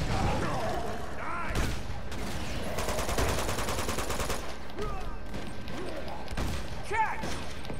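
Gunfire from the video game Uncharted 2 Among Thieves, bursts of shots crackling through a busy combat mix with short loud rattling volleys, impacts and mechanical clatter.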